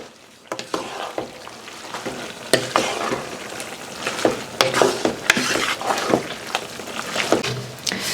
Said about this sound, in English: let me give these onions a stir here real quick